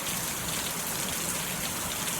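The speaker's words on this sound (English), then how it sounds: "I'm enjoying the rain." Rain pours steadily in a close, uniform hiss, constant and unbroken, with no voices or other sounds over it.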